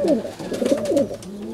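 Pigeons coo near by, a few soft throaty warbling calls overlapping in quick succession, with faint flutter or ambient noise behind.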